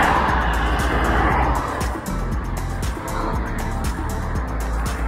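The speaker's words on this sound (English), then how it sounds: "So I'm now waiting for the cars to approach" Cars pass along a Warsaw city street, their engines and tyre noise swelling close by and fading, a steady stream of traffic with a continuous low rumble.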